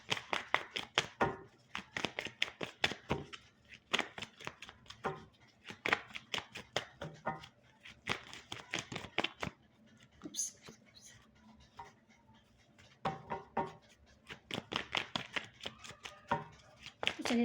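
Tarot cards are shuffled in quick bursts of crisp riffling and flicking, near and fairly soft, broken by short pauses, with a quiet voice speaking in between.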